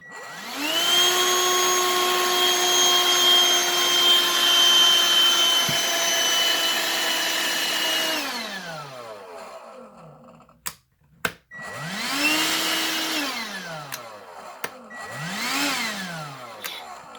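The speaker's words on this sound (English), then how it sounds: "right here I have the 16 volt lithium ion Black & Decker vacuum" A Black & Decker 16 volt lithium-ion hand vacuum whirs steadily at a high pitch, then winds down, clicks, and spins up again in two shorter bursts that rise and fall.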